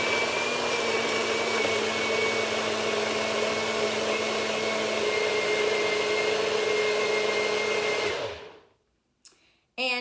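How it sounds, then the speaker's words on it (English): A blender whirs steadily at high power for about eight seconds, blending a protein shake of banana, almonds and ice, then spins down and stops, followed by a couple of brief clunks. "So let's go ahead and get to blending."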